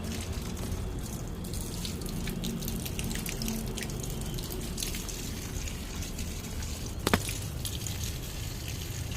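Water is poured onto potted plants on a rooftop, a soft continuous trickle and patter heard close with a single sharp tap near the end.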